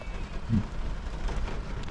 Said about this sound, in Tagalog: Sobrang ulan ayan oh.